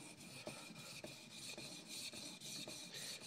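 Knife blade being sharpened by hand with steady, rhythmic rasping strokes along the edge, roughly two passes per second, close and moderately loud with no talk.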